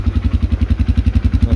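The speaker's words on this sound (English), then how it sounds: "The belt's making noises." A warmed-up Kymco Mongoose 270/300 quad ATV engine idles close by with a loud, steady, rapid pulsing putter, and a faint belt chatter rides along over the engine beat.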